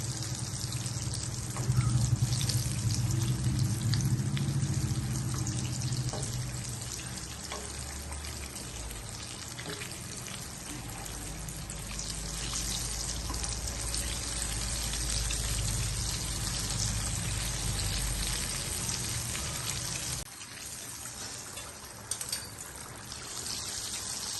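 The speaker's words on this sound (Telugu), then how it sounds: "బూరెలు సగం వేగిన తర్వాత తిరగేసుకోవాలి." Sweet purnam burelu dumplings deep-frying in oil, a continuous bubbling sizzle with a steady watery hiss throughout, louder early on and briefly dipping near the end, with no talk.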